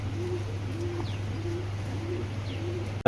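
Racer pigeons coo in a slow repeating series of soft, low calls, each one short and evenly spaced, heard over a steady low background hum with no talking.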